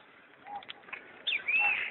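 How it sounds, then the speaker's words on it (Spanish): Birds call softly at a distance, with a few short chirps followed by a longer, clearer whistled phrase in a quiet outdoor setting. "y el canto de los pájaros"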